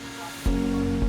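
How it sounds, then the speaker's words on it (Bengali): Distant Sita Falls waterfall gives a steady broadband rush, continuous and moderate, with a louder surge about halfway through. "ঝর্ণার আওয়াজটা কান অব্দি আসছে"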